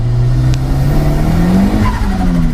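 A modified 226 BHP Ford Escort RS Turbo with a screamer pipe revs hard and close, its loud engine note climbing and holding with a raw, rasping edge.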